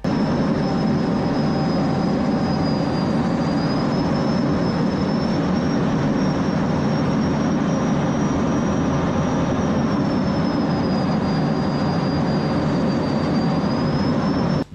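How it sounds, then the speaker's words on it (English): Belgian Air Force F-16 jets flying in formation, heard from inside a cockpit as a loud, unbroken engine roar with a steady high whine that shifts slightly in pitch over about fifteen seconds. "These Belgian Air Force F-16s flying in formation"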